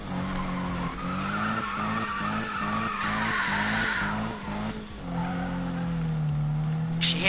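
Car tires skid and squeal in a PS4 driving game, a long rhythmic run of scrubbing screeches over a droning engine, then a smoother engine note with a brief squeal near the end.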